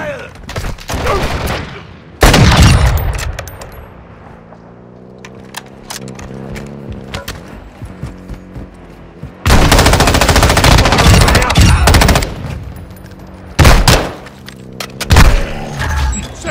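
Loud, close bursts of automatic machine gun fire in the Call of Duty DMZ video game, long sustained volleys broken by shorter rattles and thuds, with in-game radio voices talking underneath.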